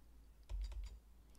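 A brief burst of about four quick keystrokes on a computer keyboard, entering a number into an Excel filter dialog, close and crisp against quiet room tone.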